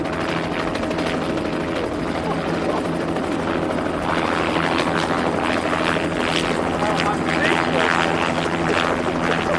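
A helicopter lifting off, with a loud, steady rotor whir and turbine drone close by that holds constant and swells slightly in the later seconds.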